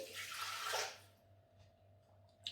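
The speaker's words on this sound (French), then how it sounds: "Je vais y verser mon bouillon de légumes." Vegetable broth pours into a Thermomix bowl as a brief, soft splashing gush that fades after about a second, leaving a faint background hum.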